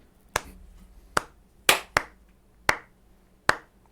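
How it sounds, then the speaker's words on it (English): A slow clap of six separate, evenly spaced hand claps, each sharp and distinct with brief room decay, close and fairly quiet with no talking. "Should we give him a slow clap?"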